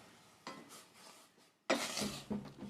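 A utensil stirring flour into boiling water in a pot to make fufu, with scraping and knocking against the pot after a quiet pause, irregular and close.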